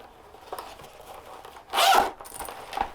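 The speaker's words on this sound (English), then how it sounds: "So this zipper opens," A metal zipper on a leather bag is pulled open in one quick rasping stroke, preceded and followed by a few faint soft rustles.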